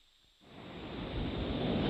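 A recording of ocean surf runs through a Herbs & Stones Gentle Wham drum synthesizer. The filtered wash of waves fades in from near silence and swells into a steady, loud hiss with the top end rolled off.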